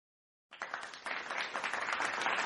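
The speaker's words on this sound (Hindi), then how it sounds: "गांव तालियों से गूंज उठा" A village crowd breaks into applause, dense clapping starting abruptly after a short silence and building steadily louder, sustained and close.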